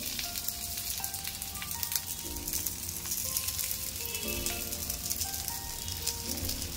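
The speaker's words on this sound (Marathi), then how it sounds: "त्याच्यावर थोडंसं आपण तेल घालून घ्यायचं आणि या तव्यामध्ये आता इथं असं घालून घ्यायचे सगळे पानं आपली" Rolled taro leaf slices for alu vadi fry in oil on a nonstick griddle, giving a steady, close crackling sizzle with fine popping throughout and no talking.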